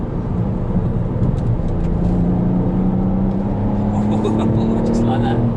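Ford Fiesta ST MK8 hatchback accelerating hard out of a corner on a twisty B-road, its engine note rising steadily in pitch as it pulls, heard from inside the cabin with continuous road and wind noise.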